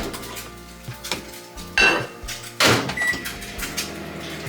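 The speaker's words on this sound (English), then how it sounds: "the eggs are sizzling, the microwave is doing its thing" Kitchen clatter of pots, pans and utensils while eggs cook in a pan and a microwave runs; irregular clanks and two louder scraping bursts over a low background hum, with no talking.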